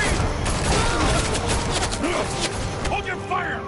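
Bursts of gunfire crackle in a Batman Telltale game scene, with rapid loud shots and clattering impacts running throughout under voices.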